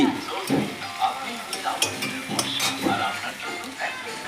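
Catla fish kalia cooks in a pan with continuous sizzling and frying. Rhythmic stirring scrapes and light utensil clinks repeat through it.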